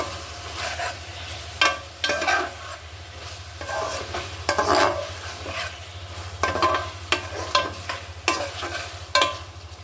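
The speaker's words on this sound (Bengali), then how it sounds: "মাছটা দিয়ে দিয়েছি, মাছটা একটু কষিয়ে নিচ্ছি।" Catla fish being stir-fried in spice paste for a cauliflower curry, a spatula scraping the pan in repeated strokes over a steady low sizzle, fairly close, with no talk.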